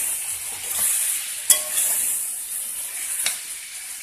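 Chopped ash gourd goes into a frying pan with turmeric-and-salt fried shrimp, setting off a loud close sizzle with a couple of sharp clatters as pieces drop in and are stirred.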